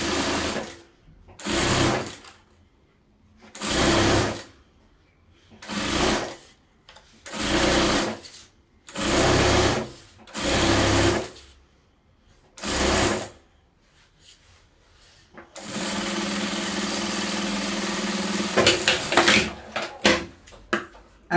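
Sewing machine stitching fabric along the fold of bias binding for a patchwork table runner, close and loud in about eight short whirring bursts, then one long continuous run of stitching.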